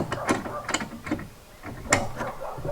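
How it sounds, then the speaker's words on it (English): A fastener is unscrewed on scaffolding during a house build with Porotherm walls, giving short bursts of close, quiet mechanical ratcheting clicks separated by a brief pause. "Let me unscrew this one"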